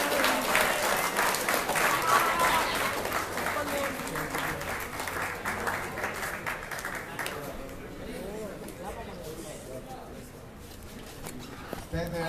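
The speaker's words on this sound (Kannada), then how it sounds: "ಇನ್ನೊಂದ್ಸರಿ ದೊಡ್ಡ ಚಪ್ಪಾಳೆ ನೋಡಿರೆ" An audience at a Karnataka campus event claps together, a dense, sustained wash of applause that is loudest at first and thins and fades after about seven seconds.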